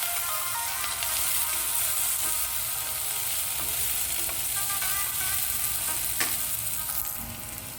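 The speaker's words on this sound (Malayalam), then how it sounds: "ചെറുതായി അരിഞ്ഞ ചെറിയ ഉള്ളി ഏകദേശം ഒരു അരക്കപ്പോളം വരും അതുകൂടി ചേർത്ത് നന്നായിട്ടൊന്ന് വഴറ്റി കൊടുക്കാം" Chopped shallots sauté in hot oil for a Kashmiri-style mutton masala, giving a steady, close sizzle with faint spoon scrapes and stirring ticks throughout, no talking.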